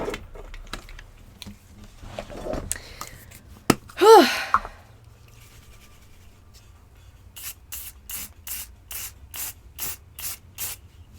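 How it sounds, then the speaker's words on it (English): Hairspray hisses onto a cosplay wig. Scattered rubbing and handling noises come first, then a rapid rhythmic run of about nine short, close spray bursts. "I think I'll hairspray them because they kind of need it"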